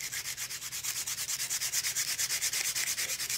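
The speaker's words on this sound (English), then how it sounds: "A good sanding." A piece of wood is sanded by hand with a steady back-and-forth rhythm of close, loud scratchy strokes, about seven per second, and nobody speaks.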